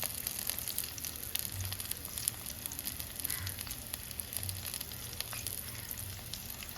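Onions and chillies sizzle in hot oil, a continuous crackling fry with scattered pops and faint stirring, close by and fairly quiet, without any voices.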